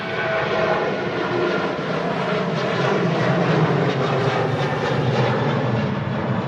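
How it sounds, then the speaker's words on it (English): A Ryanair Boeing 737 airliner passes at Manchester Airport in strong crosswinds, its engines giving a loud, steady broadband roar that holds evenly throughout with no talking. "That Ryanair 737 on the way to Bologna"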